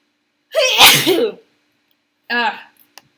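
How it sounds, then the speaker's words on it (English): A single loud, close sneeze with a sharp intake and burst, followed by a short voiced sound after a pause. "I'm totally gonna sneeze."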